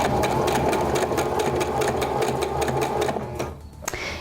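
A sewing machine stitches wig pieces onto fabric in a fast, even mechanical whir with a regular needle rhythm, running close and steady before slowing and stopping near the end.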